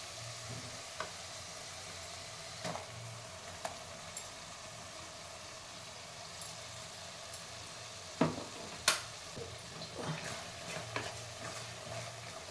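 Ground masala paste sizzling in hot oil in a pan for a brinjal and drumstick kuzhambu, with a steady crackling fry and occasional stirring scrapes and clinks, close and fairly quiet with no talking.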